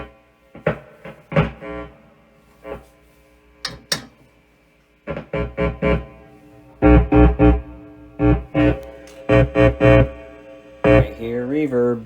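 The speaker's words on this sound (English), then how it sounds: "Right here, reverb." Plucked electric guitar notes and short chords ring through the spring reverb of a restored 1966 Gibson Minuteman amplifier, each attack trailing off in a washy decay, with pauses between phrases and a denser run of strums near the end.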